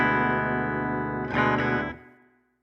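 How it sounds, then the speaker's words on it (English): Electric guitar run through an amp preset on a Line 6 HX Stomp, a single sustained chord ringing with effects, swelling briefly near the end before fading out, close and moderately loud. "So here's the first preset that I know has an amp on it."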